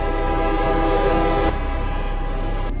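A train rolls past in a film scene, a loud, steady rumble of rail cars with a sustained horn-like tone over it and a brief cutoff midway.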